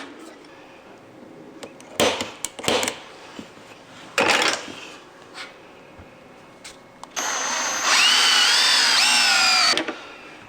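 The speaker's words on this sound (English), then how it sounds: "I'm going to go ahead and drill one more." A power drill bores a hole with a loud, steady whine lasting about three seconds near the end, preceded by scattered clicks and knocks of handling parts and tools.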